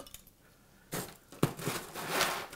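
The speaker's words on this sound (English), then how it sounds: "A little bit more ice." A few more ice cubes drop into a blender jar holding strawberry Greek yogurt and orange juice, giving scattered clinks and rattles in short bursts, one sharper knock in the middle, fairly soft overall.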